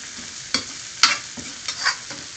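Pickled bamboo shoots stir-fried with minced pork over high heat: a soft sizzle broken by several sharp clanks and scrapes of a spatula against the pan, close up, with no talking.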